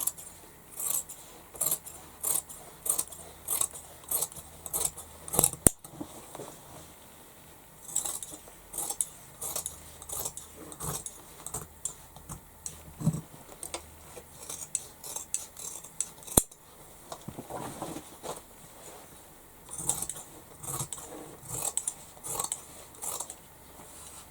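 Scissors cut fabric for a tote bag in a steady run of close, crisp snipping strokes, pausing briefly before the rhythmic cutting resumes.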